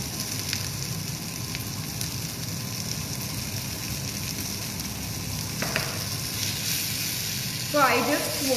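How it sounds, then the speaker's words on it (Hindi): Vegetables, including corn, are quick stir-fried in a pan until they pick up light char marks. A soft, steady sizzle runs throughout, with a brief clatter of stirring near the end. "So I just want the vegetables to get cooked a bit, थोड़ा सा black marks आ जाए उतना ही मुझको चाहिए। It's like a quick stir fry"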